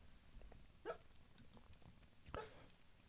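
A dog named Georgie gives two short, muffled barks while dreaming, each a soft sleepy woof heard from a little way off in a quiet room, with faint whimpering in between.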